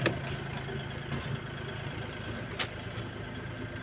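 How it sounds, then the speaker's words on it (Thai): A tractor engine runs steadily near the listener, a continuous mid-pitched droning idle with faint shifts in tone and no speech. "ขับรถไถมานะ"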